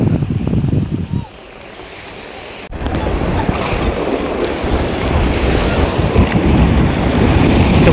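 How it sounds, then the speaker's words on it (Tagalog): Strong sea waves surge and crash around a small boat towing a dragon boat, a dense roar mixed with heavy wind buffeting the microphone, while voices talk over it. "Sobrang lakas na ng alon mga kabutride."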